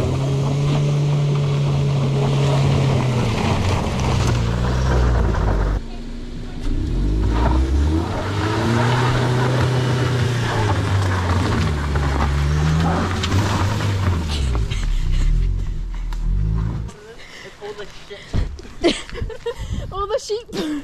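A car stuck in mud on a farm driveway revs its engine hard in rising and falling surges with wind buffeting the microphone, then the engine drops away and people talk nearby.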